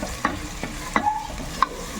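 Liver frying in a pan for pancit canton while being stirred, a soft steady sizzle broken by a few clinks and scrapes of the utensil; no talking.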